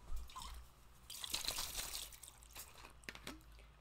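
Someone drinking day-old water, with soft liquid trickles, drips and gulps close up and fairly quiet, alone without talk.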